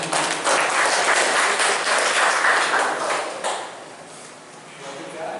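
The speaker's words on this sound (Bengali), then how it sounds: "একটা জোরে হাততালি হোক ওনার জন্য" Audience applause at a community Saraswati Puja and Netaji birth anniversary celebration, a crisp burst of clapping that tapers off after a few seconds, with talk mixed in.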